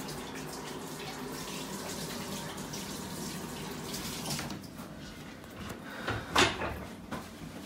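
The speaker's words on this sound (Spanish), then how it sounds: "Nos lavamos las manos con agüita." Tap water runs steadily into a kitchen sink while hands are washed before frying meat patties, a soft continuous splash with a brief louder clatter near the end.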